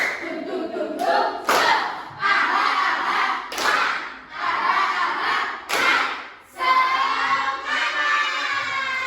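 A classroom of children doing rhythmic spirit clapping, loud bursts of clapping and thumping in repeated patterns with short pauses between, alongside shouting voices.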